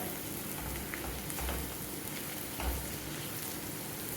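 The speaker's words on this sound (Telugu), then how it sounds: "మధ్యలో కలుపుకుంటూ వేయించుకుంటే మాడకుండా ఉంటాయి ఉల్లిపాయలు" Onions fry with salt in a pan, making a steady, close crackling sizzle with a couple of soft stirring bumps and no speech.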